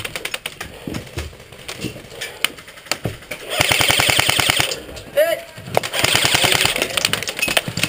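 Rapid bursts of airsoft gunfire during an outdoor airsoft game at a paintball park, with dense clattering volleys coming in waves and shots ringing close and loud while players shout and talk over them.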